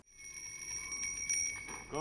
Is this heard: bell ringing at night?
yes